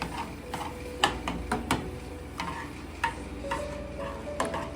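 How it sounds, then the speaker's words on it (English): Rice and milk for arroz con dulce being stirred with a spoon in a pot, irregular light clicks and scrapes against a low simmering hiss, close and quiet, without talk. "Now we are going to mix it around."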